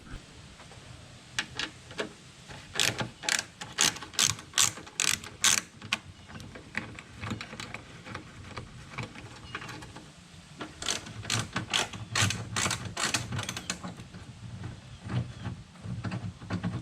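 A hand ratchet removes bolts while a purge valve is replaced on a 2013 Ford Escape, in two bursts of rapid, close clicking strokes separated by a quieter pause with faint handling noise.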